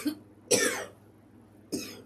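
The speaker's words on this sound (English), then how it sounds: "Y'all are making me cough" A person coughs indoors during a live crafting session, with two short sharp bursts followed by a hoarse throat-clearing cough, close and fairly loud against quiet surroundings.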